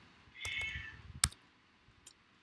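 Computer keyboard keys tapped lightly in a quiet room, a few sparse clicks with a soft whirr near the start, faint and close.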